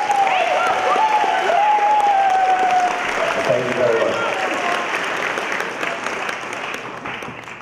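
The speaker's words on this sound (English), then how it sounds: "So nice round of applause for the SAD." Audience applause at a school assembly for a mock drunk-driving crash event, a steady wash of many clapping hands that holds loud for several seconds before gradually thinning out.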